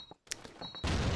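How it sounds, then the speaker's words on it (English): Grenade blast in the online match game Call of Duty 2, a sharp broadband burst in the last half of the second after brief clicks and faint game sounds, loud and close. "that nade landing right in his face"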